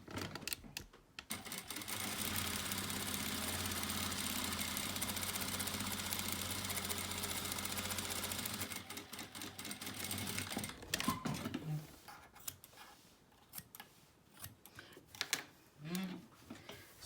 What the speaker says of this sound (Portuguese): vou costurar agora da onde eu parei até onde eu havia começado